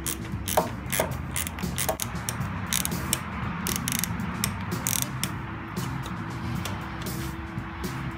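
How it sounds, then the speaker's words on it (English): Socket wrench ratchet turned by hand to drive a screw into a small table, a series of quiet clicking pawl ratchets in uneven bursts over a low background hum. "We'll get my socket set, and we're gonna put this sucker in by hand"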